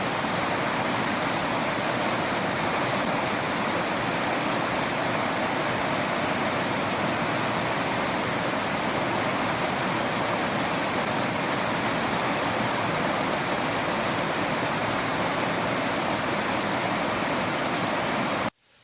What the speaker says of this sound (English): now a local park has opened up, so I got to shoot some waterfalls